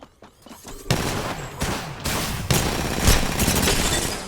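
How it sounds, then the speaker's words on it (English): Gunfire in the video game Apex Legends, with rapid bursts of shots and booming impacts erupting close and loud, building into dense, overlapping fire. "I'm being shot at right now. making contact here. They spotted me. I'm taking shots."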